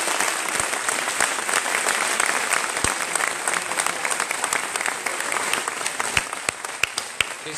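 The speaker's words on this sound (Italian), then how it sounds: "Vi chiedo un applauso calorosissimo per i volontari" Warm, sustained applause from an Italian festival crowd thanks the volunteers, a dense, loud wall of clapping with scattered sharp individual claps that keeps going throughout.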